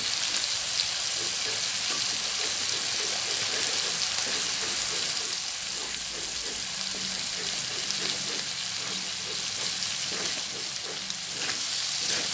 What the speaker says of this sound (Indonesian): kita akan menumisnya hingga semua bumbu ini matang dan tercampur dengan baik dengan daging sapinya tadi